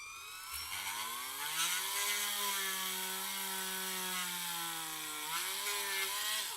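A Dremel rotary tool fitted with a small burr whines up to a higher speed, a steady, faint tonal hum that rises, holds and then climbs slightly again.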